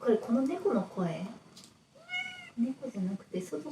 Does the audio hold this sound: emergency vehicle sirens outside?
no